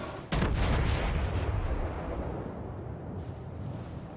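Naval guns firing in World of Warships, shooting over an island: a sudden heavy salvo of overlapping booms that rolls and rumbles, then fades into a long, low sustained roar.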